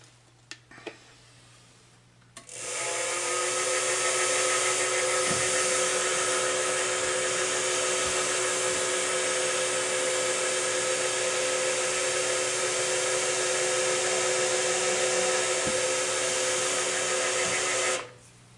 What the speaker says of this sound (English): I've got a spotting drill set up in the chuck